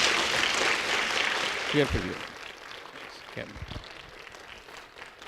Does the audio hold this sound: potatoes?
no